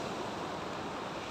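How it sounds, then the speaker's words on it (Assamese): Ocean waves break on a windy seashore, a steady, loud wash of surf that fills the whole short stretch with no voices. "কি মজা ঢৌ মাৰি আছে।"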